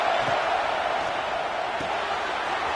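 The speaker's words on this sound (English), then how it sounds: "the crowd really getting into it" A stadium crowd in a College Football 26 game between Tennessee and Auburn roars in a steady, broad wash of cheering, sustained and loud without breaks.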